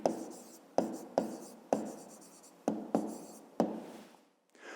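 A pen writes an answer by hand on paper in a math exercise, seven short scratching strokes, each starting sharp and then fading, close and fairly quiet, with a brief pause near the end.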